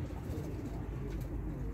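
Low, soft cooing of a Turkish playing pigeon (oyun kuşu) under a steady rumble of background noise, continuous and close throughout the short stretch.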